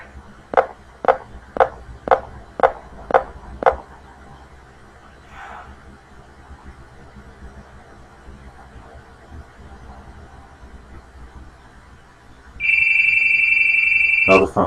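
A phone rings in a horror video game, a loud steady electronic trill starting near the end after a quiet stretch that opens with seven sharp rhythmic knocks.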